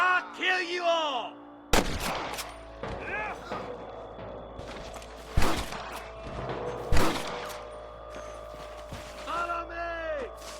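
Gunfire in the Wild West game Red Dead Redemption: several sharp shots ring out at irregular intervals amid a tense shootout, mixed with shouted voices and other game effects.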